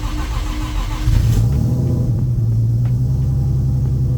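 Car engine, freshly retuned for idle, catching and settling into a loud, steady rumbling idle close by after a brief rough start, with no talking.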